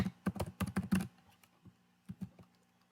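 Python code being typed on a computer keyboard: quick clusters of soft, close keystrokes, a dense burst at first, then a pause and a few scattered clicks, all faint and with no talking.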